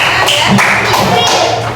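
Children in an elementary school classroom clap for a classmate named Laura, a dense, steady burst of many hands close by that fills the short moment.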